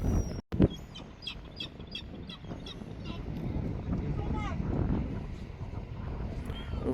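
Seagulls calling near a wild coastal spot, several short honking cries scattered over steady wind noise, moderately close, with no talk over them.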